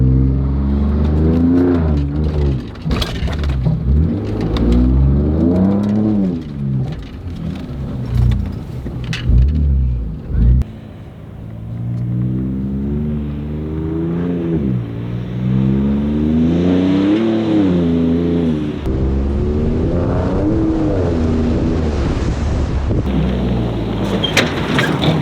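A vehicle with Fox 3.0 suspension guns its engine repeatedly at full throttle on the Little Sahara sand dunes in Utah. Loud, close revs climb and fall in waves for the whole stretch.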